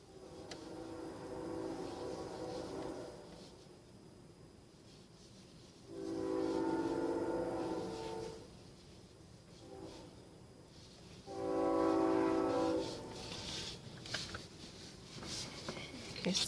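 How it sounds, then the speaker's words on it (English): A distant train rumbles past with a low continuous roar, and its horn sounds in two long, loud blasts separated by a pause. "And of course the train has to come through."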